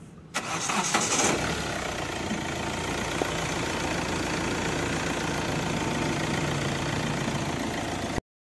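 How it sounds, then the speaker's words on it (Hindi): A 2014 Hyundai i20 engine cranks briefly, catches and settles into a steady, even idle heard up close for several seconds before cutting off abruptly. "ये रहा इंजन, इसका साउंड आपको सुनाते स्टार्ट करके।"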